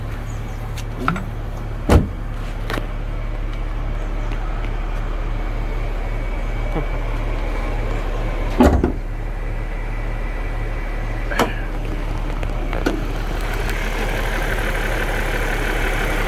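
A 2008 Dodge Charger engine idles steadily with a low, constant hum, broken by a few faint clicks and knocks.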